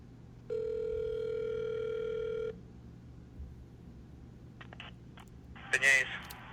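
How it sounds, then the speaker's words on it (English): An outgoing telephone call rings out during a podcast recording: one steady, loud ringback tone lasting about two seconds, followed by a quiet line with faint clicks and a short burst of noise near the end. "I'm going to call them on the podcast and see what they say"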